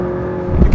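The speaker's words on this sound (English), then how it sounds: "Intake noise and turbo noise and great high-strung V8 noise." A McLaren 675LT's high-strung turbocharged V8 hums with a steady tone, then revs up sharply in a loud, close burst of intake and engine noise.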